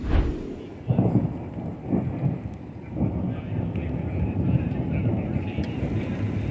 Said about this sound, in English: Rain moved in, but thankfully it didn't stay long.